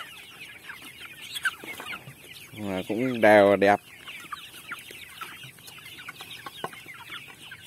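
Free-range chickens about a month old clucking on a farm, with a louder burst of calls in the middle over a steady background of soft clucks, and a person speaking briefly.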